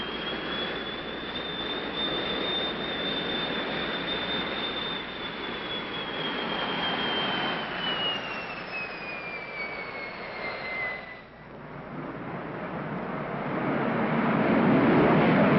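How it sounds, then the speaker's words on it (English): A jet aircraft with its afterburner lit makes a fly-by, a broad roar with a falling whine that fades briefly before the rumble builds louder again. "And then we're going to fly by with the afterburner on."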